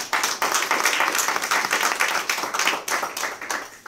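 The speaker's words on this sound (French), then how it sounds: "Acclamons le roi des rois" Congregation clapping and applauding during a church service, a steady dense wash of many hands close by with no talk.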